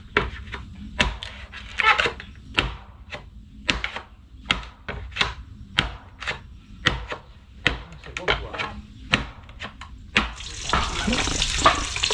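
Tinola of innards (laman loob) cooking in a pan, with repeated clatters and scrapes of a utensil against the pan over a steady low simmer, ending in a louder sizzle or pour; close by, no talk.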